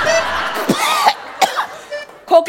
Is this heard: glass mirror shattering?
no